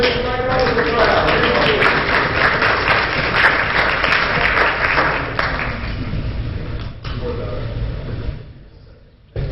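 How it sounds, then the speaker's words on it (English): An audience at a city meeting applauds the bike racing crowd, a loud, steady wash of clapping that slowly thins out, with voices talking over it. "All right, one more hand for the bike racing crowd."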